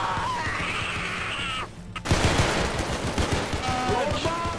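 Rapid gunfire from a gun in Garry's Mod DarkRP: a dense burst of repeated shots after a short gap, with a high-pitched game tone before it.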